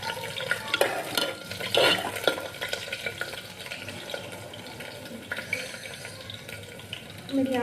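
Onions frying and scorching in a pan with spices added, a spoon scraping and stirring in bursts over a steady sizzle, close by with faint running-water splashes.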